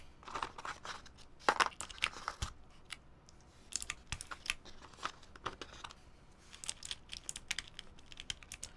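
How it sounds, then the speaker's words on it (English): A mechanical keyboard fitted with clicky Gateron melodic switches is typed on in close, crisp clusters of sharp clacks, with short pauses between the bursts. "clicky switches are these Gateron melodic"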